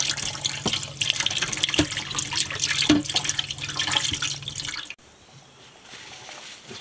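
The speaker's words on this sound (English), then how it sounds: "And then I'll spread a little bit of water on it and a little bit of soap." Water splashing and running while a cooking pot is washed with soap, a busy wet scrubbing sound with a few sharp clinks, ending abruptly in quieter room tone.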